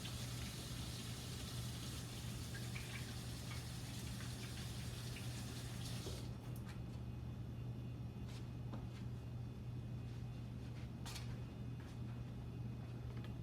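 Tap water runs steadily with a soft, broadband rush over a constant low hum, then cuts off abruptly midway, leaving quiet kitchen background with a few faint clicks.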